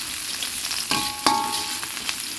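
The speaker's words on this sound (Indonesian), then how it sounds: "Tinggal goreng bawang merah, bawang putih. Diaduk-aduk ya sampai kering." Shallots and garlic fry in a pan for tempeh orek, a loud, steady sizzle close up, broken by a couple of sharp scraping clinks as a utensil stirs them.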